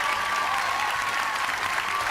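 A game show studio audience applauds a winning contestant, a steady, dense round of clapping that holds at an even level throughout with faint voices mixed in.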